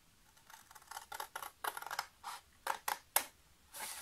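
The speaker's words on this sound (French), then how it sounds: "et on va découper tout le bas de cette bande" Scissors snip through the bottom of a paper strip for a scrapbooking 3D cube pop-up card, a quick irregular series of crisp, close cuts with short pauses between them.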